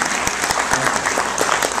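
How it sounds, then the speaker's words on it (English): Short burst of audience applause at an author interview event, with close, dense clapping and sharp individual claps standing out. "Some applause for that."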